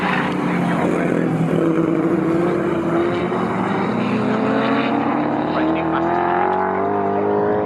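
A 4.7 litre classic racing car from a 1960s Group 2 race at Snetterton roars past loudly and steadily, its engine note rising in pitch as it accelerates, with a commentator talking over it.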